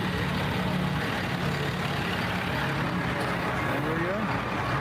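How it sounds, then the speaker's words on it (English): An old fire truck engine running at a convoy gathering, a continuous low rumbling drone with steady broadband noise and no breaks. "Here we go. Old fire truck."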